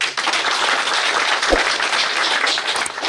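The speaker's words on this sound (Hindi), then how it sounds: "तो तालियां बनती" A seminar audience gives a dense burst of steady clapping that fills the room for a few seconds, loud and continuous with no pauses.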